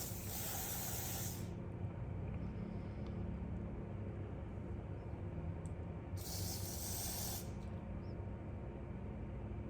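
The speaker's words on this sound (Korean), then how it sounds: "이 옆쪽 부분도 마무리 때 한 번 더 스프레이를 뿌려줍니다" Hair spray hisses onto the sides of a man's styled hair in two sharp bursts, one long at the start and another after a pause, close and loud over a steady low background hum.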